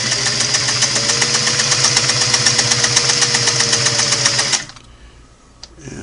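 A restored Singer Model 503A sewing machine runs a long stitch, a steady fast mechanical clatter close by, then stops abruptly about two-thirds through, leaving a quiet room with a faint click.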